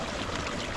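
Water flows in a stream in the Ethiopian countryside, giving a brief, steady broadband rush with no voices over it.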